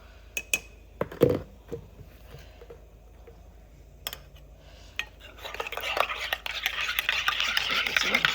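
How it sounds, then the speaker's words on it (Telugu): A spoon stirs Boost malt powder into a glass of milk, clinking now and then before settling into a steady, close scraping swirl that grows louder toward the end. "సో జాక్కి కొంచెం మిల్క్ విత్ బూస్ట్ వేస్తున్నాను."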